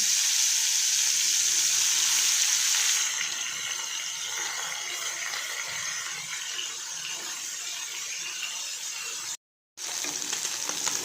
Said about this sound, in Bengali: তেলটা গরম হয়ে গেলে মাছগুলোকে ভেজে নেব।